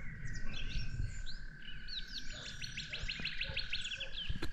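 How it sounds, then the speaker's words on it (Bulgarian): Several birds sing and chirp over one another on an early, damp village evening after rain, their calls overlapping against a steady high insect drone and faint distant background noise. "Птичките се надпяват,"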